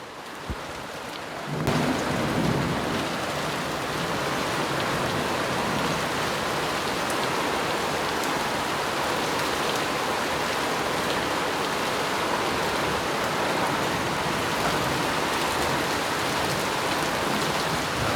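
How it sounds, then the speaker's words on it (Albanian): Heavy rain pours down in a steady roar during a daily thunderstorm, with thunder rumbling beneath the downpour throughout, loud and continuous with no talk. "Dhe stuhia po merr formë ashtu sikur se merr çdo ditë."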